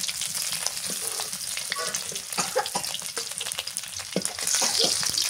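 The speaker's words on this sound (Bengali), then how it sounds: "মাছ ভাজি হয়ে গেছে।" Fish frying in oil on a clay stove on a rainy day: a steady, dense sizzle and crackle fills the whole stretch, with occasional scraping stirs and spatters, close and loud, no voices.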